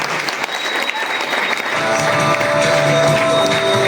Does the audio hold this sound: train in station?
no